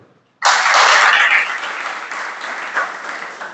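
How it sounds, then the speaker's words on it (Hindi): An audience at a Jain religious discourse bursts into loud applause after a short silence, the clapping holding strong before gradually thinning out. "ताली बजा लो।"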